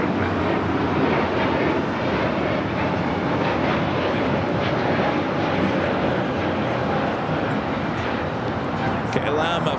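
A KLM Boeing 777-200ER jet at Los Angeles International heads for runway 24 left, its engines a loud, dense, continuous roar that stays steady throughout.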